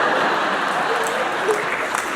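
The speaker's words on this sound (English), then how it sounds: "I applaud your attempts at clapping along with my song that changes tempo every 2 bars" An audience claps along to a song that keeps changing tempo, making a dense, continuous wash of applause with voices mixed in underneath.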